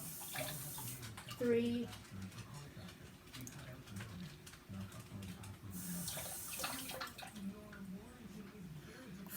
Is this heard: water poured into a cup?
yes